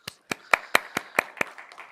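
A church congregation claps at a Friday service, eight sharp, evenly spaced claps in a steady rhythm over two seconds, with no voices over them.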